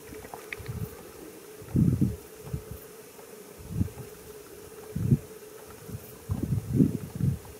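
Flies buzzing in the open air around animals, several close bursts of droning hum that come and go in passes against light wind.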